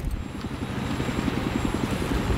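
A helicopter flies behind the player in a military video game, making a steady low rotor chop that pulses evenly throughout.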